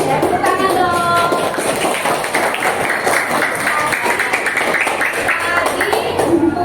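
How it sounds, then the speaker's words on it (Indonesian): Students clap together in an Islamic cultural history class, a steady dense patter lasting throughout, fairly close and loud, with classroom voices and chatter underneath. "Ya tepuk tangan dong."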